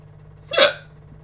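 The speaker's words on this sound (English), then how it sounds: "I hope my hiccups go away." A single hiccup, a sharp voiced catch in the throat, stands out loud and close against a quiet background hum.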